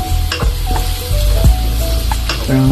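Garlic sizzles steadily in a hot pan for garlic buttered shrimp, a loud close crackling fry with occasional clinks of a utensil against the pan, no talking.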